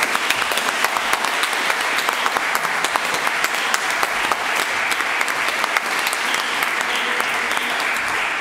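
An audience at a concert breaks into dense, sustained applause to welcome Professor Karaikudi Subramanian. The clapping is steady and even throughout, with no voices over it.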